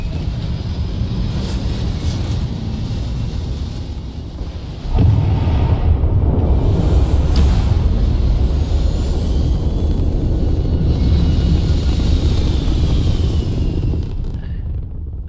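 Spaceship takeoff in the game Starfield: a steady roaring engine rumble that swells into a louder, thicker roar about five seconds in and holds, with whooshing high hiss drifting over it.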